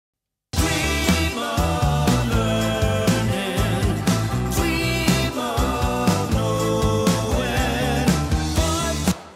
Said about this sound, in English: Do you hear that the snare sort of gets wider and fatter?